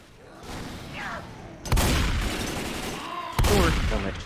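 Shotgun blasts in the video game Left 4 Dead 2: two sharp, loud reports a couple of seconds apart, each trailing into noise, with a voice speaking underneath.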